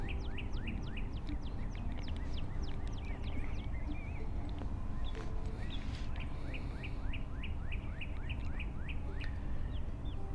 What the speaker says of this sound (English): and listen to the birds, which I love doing.